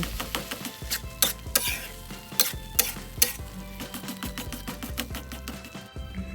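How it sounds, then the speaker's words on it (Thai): Boiled soybean filling with coriander root being stir-fried and mashed in a pan for a salty Thai khanom tian filling, with steady scraping and clattering strokes, frequent sharp utensil knocks and a soft sizzle, close and busy throughout. "จากนั้นก็มาผัดคนแล้วก็ขยี้ขยี้ค่ะ"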